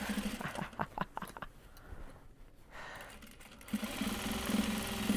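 Sewing machine stitching large box bags, its motor running in steady bursts with a rhythmic hum, pausing briefly midway and then resuming loud and continuous, no talk.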